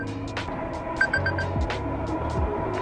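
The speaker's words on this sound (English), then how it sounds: "Speaking of alarm, there it is." An alarm goes off during a long treadmill-style endurance run, a short series of bright electronic beeps sounding once amid steady background noise and rhythmic footfalls.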